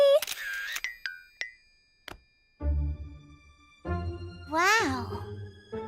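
A cartoon camera shutter gives a single quick click as a selfie is snapped, set among character voices and short musical stings.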